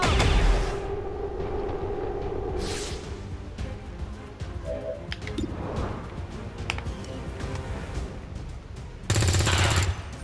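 Gunfire in XCOM 2: War of the Chosen, with a long stretch of rattling automatic fire and scattered shots at moderate level, a short burst near the start and a sharper, louder blast near the end.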